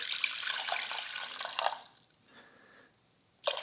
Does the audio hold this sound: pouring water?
yes